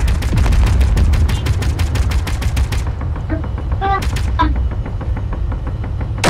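Gatling gun in the space game Space Engineers fires a fast, loud burst of rounds for about three seconds during a PvP pirate infiltration battle, followed by scattered shorter shots and rocket-like bursts under busy combat noise.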